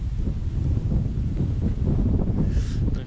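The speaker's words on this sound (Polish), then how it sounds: "Gdzieś flaga Francji do mnie łopocze na wietrze" Wind gusts outdoors at a Maginot Line memorial site with a French flag nearby, a loud, steady rumbling buffet against the microphone with no speech.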